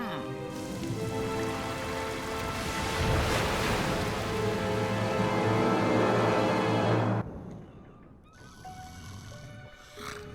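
Steady rain pours down in a cartoon scene as floodwater keeps rising, a dense hiss of falling water with sloshing surf-like swells, layered over music until it drops away near the end.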